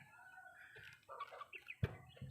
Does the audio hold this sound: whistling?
no